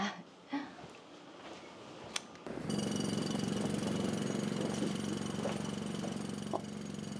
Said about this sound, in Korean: 이게 무슨 소리고? 공사 소리 내가 말했잖아.